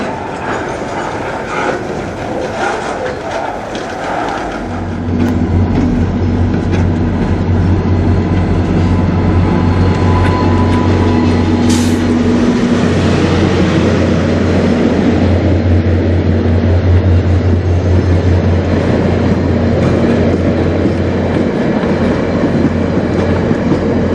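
A train passing on the Strathroy Subdivision, a loud sustained rumble and rolling clatter that starts abruptly after a few seconds of quieter ambience and continues close by with a steady low drone and no talking.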